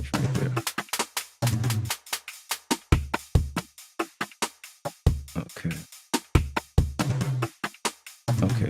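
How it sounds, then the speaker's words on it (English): Collider Desert Snare drum sample played repeatedly in FL Studio Mobile: a long series of sharp, tight, close hits in uneven rhythm, some in fast clusters, others sounding alone, with no talk over them. "that sound is Collider Desert Snare"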